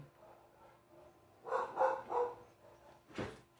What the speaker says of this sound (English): And it seems my dogs are going wild.